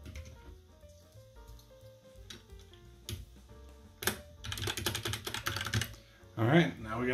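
Keycaps being pressed back onto the switches of a non-hot-swappable mechanical keyboard after a switch replacement, a series of clicks and clacks close by over faint background music, with louder bursts toward the end.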